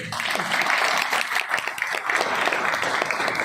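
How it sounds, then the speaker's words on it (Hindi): Audience applause at an HMIS data presentation event, a dense burst of clapping from a room of people, steady and fairly loud for a few seconds. "जोरदार ताली से बजाइए"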